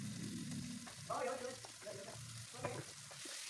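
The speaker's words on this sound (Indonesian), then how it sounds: "Pertama tumis terlebih dahulu bawang putih, bawang merah, dan cabenya" Garlic, shallots and chili sizzle as they are fried in hot oil, with a steady crackling sizzle and a few brief stirring scrapes, and a voice speaking over parts of it.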